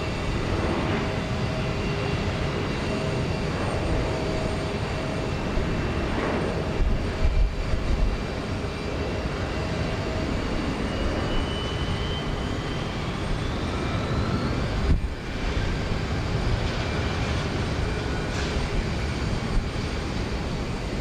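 A Boeing 737-900 bound for Chicago O'Hare takes off from runway 15 left at Houston Intercontinental, a broad sustained jet engine roar heard from a distance, steady and loud throughout with a slowly rising whine.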